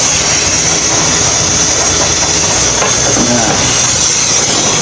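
Car engine running on gas fuel (LPG/BBG), a steady loud broadband idle hum filling the whole clip, close by, with a brief spoken word over it.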